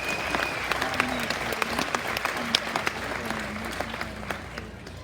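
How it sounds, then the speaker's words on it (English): Steady applause from an audience at a livestock show grand drive of champion cattle, hogs and sheep, with dense clapping and a few sharper claps standing out over a soft crowd murmur throughout. "Let's give Dr. Hogue and all the drivers of the champions today a good big round of applause."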